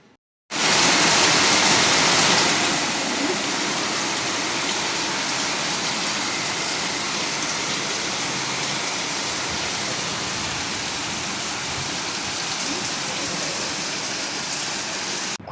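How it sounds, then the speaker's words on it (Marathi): Heavy rain pours down in Kolhapur as a loud, dense, unbroken roar of hissing water that starts suddenly and stays constant throughout, with no voices. "खूप जोरात पाऊस चालू झालेला कोल्हापुरात"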